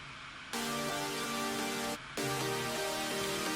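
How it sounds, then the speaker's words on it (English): A MusicCore Chord Hangover detuned saw synth plays two sustained chords, with a short gap between them, steady and buzzy with thick harmonics and no voices over it. "Just your basic detuned saw"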